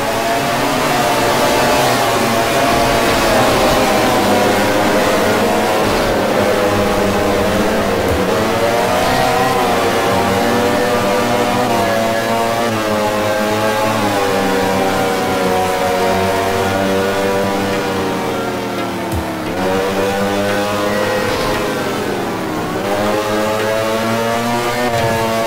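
Loud, continuous wail of racing motorcycle engines in the video game MotoGP Ultimate Racing Technology 3, pitch climbing and dropping through gear changes as bikes accelerate, with no voices over it.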